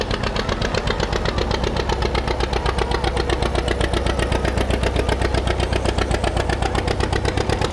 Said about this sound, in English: Makes that sound because it has a gutted muffler, just a straight stack.